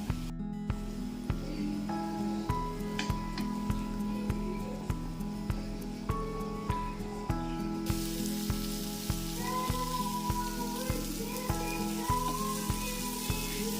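Paneer shallow frying in butter in a pan gives a steady crackling sizzle, partly buried under background music with a regular beat, and grows brighter and busier partway through.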